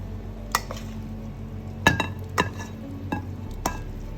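Noodles plated into a bowl with several sharp clinks and knocks of dishes and utensils, spaced irregularly over a low steady kitchen hum, no talking.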